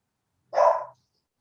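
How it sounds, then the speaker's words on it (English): A West Highland terrier gives one short, sharp bark, close and loud, in an otherwise quiet indoor room. "sorry about the dog"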